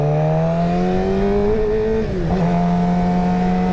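A 2023 Suzuki GSX-R600 motorcycle accelerating hard, its engine note climbing loud and close, dipping briefly at a shift before pulling upward again.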